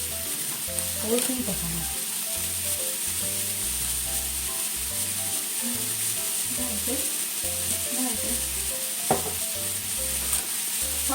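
Carrot, daikon radish and fried tofu stir-fried in a pan, giving a continuous loud sizzle with rhythmic scraping and stirring clatter, and a voice speaking briefly over it.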